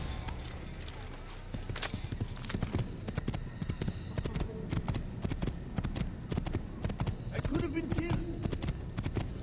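Horse hooves clip-clop steadily through a ride in the Assassin's Creed video game, a continuous rhythmic patter of footfalls running the whole time with game ambience and a person talking over it.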